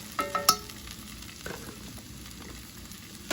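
Ground beef with onions and minced garlic frying in a pan, a steady sizzle under a few sharp scraping stirs at the start and another near the end, with no talking.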